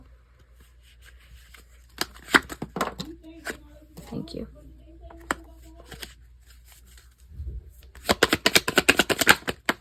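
Tarot cards are shuffled in crisp riffling bursts, a short flurry early and a longer rapid run near the end, with a brief spoken remark between.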